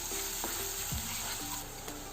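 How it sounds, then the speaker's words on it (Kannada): Onions frying in a pan with turmeric and salt give off a steady, close sizzle, with occasional stirring scrapes and no voices. "ಈರುಳ್ಳಿ ಸ್ವಲ್ಪ ಫ್ರೈ ಆಗಲಿ."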